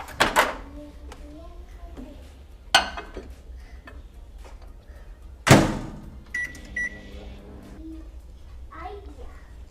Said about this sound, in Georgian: 45 წამით მიკროტალღურში.